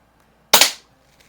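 A single sharp crack from an Umarex Ruger MK4 air pistol, close and loud, with a quick decay and near silence around it.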